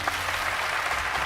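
Audience applause at a French talent show, a dense steady wash of clapping from a crowd, loud and continuous throughout with no voices over it.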